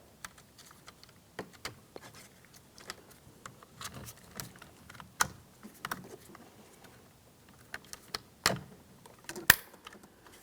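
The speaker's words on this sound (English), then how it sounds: "Just line them up, press them in, and listen for a click." Switch panel wiring connectors being pressed in inside a 2007-2014 GMC Sierra 2500 HD door, a few sharp, isolated clicks and small plastic taps amid quiet handling.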